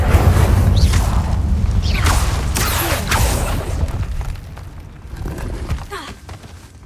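A fire spell cast in a video game bursts out as a series of whooshing, crackling swishes with low booming thuds. The bursts come loud and close over a rumbling bed, then fade toward the end.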